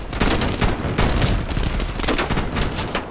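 Rapid AK rifle fire in Call of Duty Cold War, loud bursts of automatic shots cracking in quick succession with dense overlapping game noise throughout.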